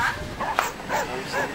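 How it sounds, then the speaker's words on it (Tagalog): A dog barks and whimpers nearby in short yips and whines, mixed with people talking in the background. "May aso kaya."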